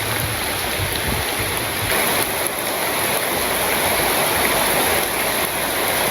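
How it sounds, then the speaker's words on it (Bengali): Heavy rain falls over a rural wetland during the rainy season, a loud, continuous, rushing wash of drops on water, steady throughout with no talking. "কি পরিমাণ বৃষ্টি দেখি,"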